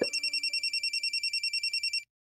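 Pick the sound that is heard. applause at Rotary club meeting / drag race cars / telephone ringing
telephone ringing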